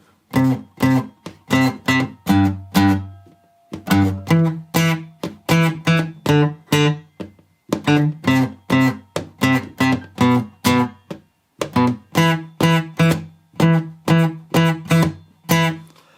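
A distorted guitar riff, short rhythmic chugging notes in repeated phrases, with brief pauses between the two lines.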